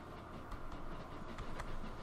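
A train running on rails in the Transport Fever 2 video game, rolling with a steady low rumble and faint rhythmic clicks, quiet and continuous with no voices.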